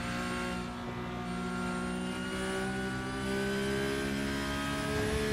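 Onboard engine note of a Porsche Cup race car lapping Sachsenring through a sequence of corners, a loud steady high-revving drone with layered harmonics that rises and falls slightly as the driver shifts, with no talk over it.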